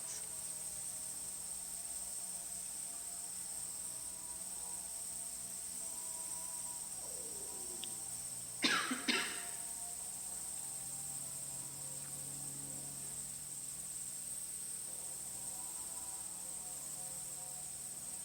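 Crickets chirp in a continuous high, steady trill throughout, faint and even, with a brief rustling knock partway through.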